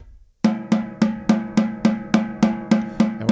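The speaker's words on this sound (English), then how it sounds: "So I want you to practice playing doubles with your wrists, not your fingers" Snare-style drum double strokes played with the wrists at a slow, even tempo, as a rudiment exercise: about ten crisp, evenly spaced hits in pairs, close and loud, with no talk.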